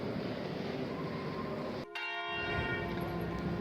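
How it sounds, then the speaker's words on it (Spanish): Church bells ring continuously with sustained metallic tones, layered and resonant, over a steady background wash, in Guanabacoa, Cuba. "Las campanas anuncian la tragedia."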